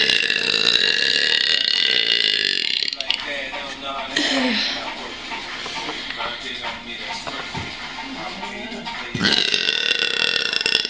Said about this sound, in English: that's like the longest burp in record of my burps